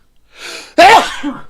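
A single loud sneeze, preceded by a soft intake of breath, with a brief fading exhale afterward; close and alone.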